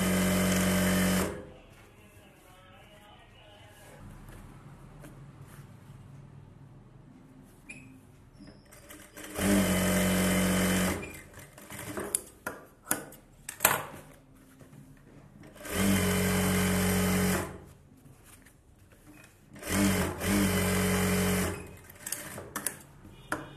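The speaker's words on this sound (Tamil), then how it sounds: "பெல்ட்டு தைக்க போகிறேன், நமக்கு கிளாத் இருக்கிற வச்சு நம்ம ஜாயின் போட்டு தான் தைக்க போகிறோம்" Sewing machine stitching a belt for a Bharatanatyam dance dress runs in four loud, steady bursts of a few seconds each, with quiet pauses, clicks and handling noise between them.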